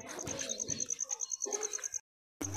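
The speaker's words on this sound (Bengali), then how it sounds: "এই এক জোড়া কবুতর দেখালাম আপনাদেরকে" Two male pigeons coo nearby in quick, rhythmic throaty pulses under a constant high whine, broken by a brief silence before the sound resumes.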